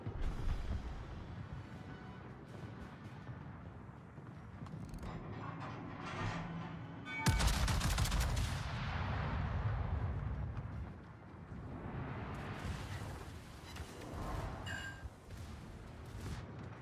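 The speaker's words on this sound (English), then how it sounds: "American battleship guns." American battleship guns firing in the naval video game World of Warships, with a sudden heavy boom cutting through rumbling engine and ambient game noise, followed by a long rolling roar that slowly fades, with other distant game sounds.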